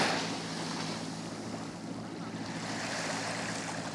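Steady, broad wash of sea waves at a small, cosy beach in Salou, Spain, sheltered by rocks; a continuous close surf roar with no voices.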